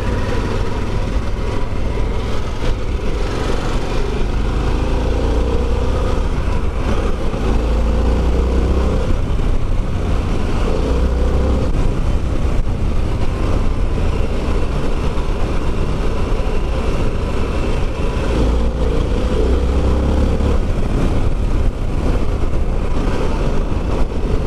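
A Harley-Davidson Pan America motorcycle being ridden, a steady loud engine drone with wind rush, low rumble fluctuating slightly throughout, no talking.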